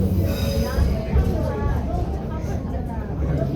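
Haeundae beach train rolling on rails, a low rumble of wheels and carriage with faint squealing tones, heard from inside under talk and a passenger announcement.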